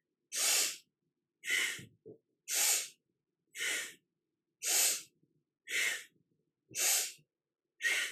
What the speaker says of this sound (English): And this is a powerful breath.